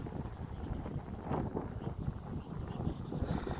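Wind buffets the microphone in a continuous low, rumbling roar with gusty swells, quiet overall and without voices.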